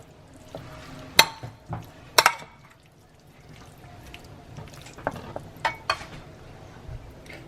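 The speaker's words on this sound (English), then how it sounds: "Gonna mix that up with the onions." Cooked squash is mixed with onions in a pan: scattered spoon clacks and scrapes rise over a faint sizzle, some sharp and close, others softer, with no talking.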